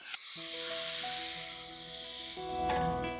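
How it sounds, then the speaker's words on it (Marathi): A loud sizzle bursts out as a yogurt mixture hits hot oil tempering for Nagpuri kadhi, then settles into a steady hissing crackle with a second flare near the end. "यामध्ये घालूया तयार केलेलं दह्याचं मिश्रण"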